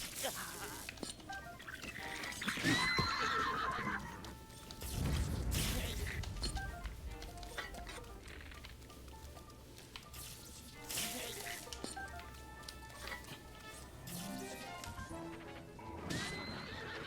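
Horse whinnies and neighs ring out in The Legend of Zelda: Breath of the Wild, repeated loud calls spread across the stretch amid hoofbeats, crashes and game noise, with some talking in the background.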